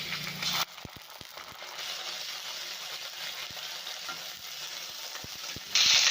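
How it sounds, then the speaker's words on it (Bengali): Ginger paste fries in oil with onion and green chilli, a steady hiss of sizzling punctuated by sharp scraping taps of a spatula stirring, louder bursts of sizzle at the start and end. "আদাটা ভাজা ভাজা হয়ে গেছে"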